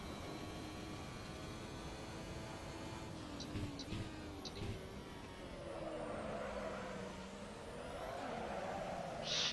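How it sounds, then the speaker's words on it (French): A 2015 Williams Formula 1 car's engine drones steadily, with the pitch rising and falling as the car slides slightly and the throttle comes back on. It is heard from inside the car over wind rush, with no talking. "je suis entré légèrement en glisse et j'ai voulu reprendre les gaz, seulement la voiture ne me l'a pas toléré"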